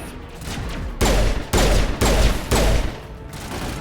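Pistol gunfire in the video game Mass Effect: four loud, evenly spaced shots with broadband bursts over steady background game ambience.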